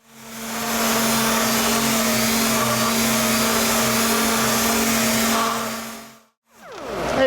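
A steady whirring power sander works the rock slider trim of a 1984 Jeep CJ7, holding a loud, even drone for about six seconds before cutting off briefly and starting again.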